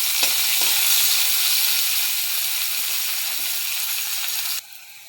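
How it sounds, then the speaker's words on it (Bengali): Bitter gourd frying in hot oil in a wok, a loud steady sizzle running unbroken for several seconds before dropping away sharply near the end. "তেলের মধ্যে উচ্ছে দিয়ে দিয়েছি"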